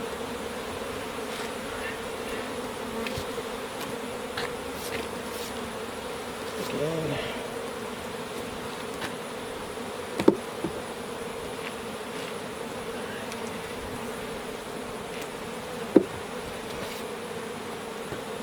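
Steady, dense buzzing of many bees around a hive during honey harvesting fills the clip, a continuous close drone with a few sharp knocks and clicks breaking through.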